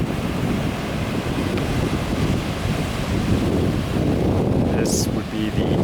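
Ocean surf rolls in at Ras Erissel, where the Arabian Sea meets the Indian Ocean at the edge of Africa: a constant loud wash of waves mixed with heavy wind buffeting the microphone, with a brief higher sound near the end.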